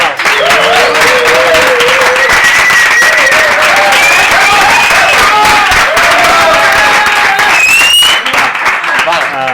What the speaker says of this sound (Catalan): Podem repetir un fort aplaudiment?